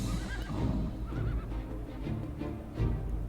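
Horses in the strategy game Humankind neigh and whinny over soft hoof clip-clops, a loud close burst of game sound with no talking.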